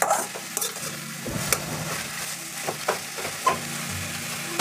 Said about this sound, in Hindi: अच्छे से मिक्स कर लेंगे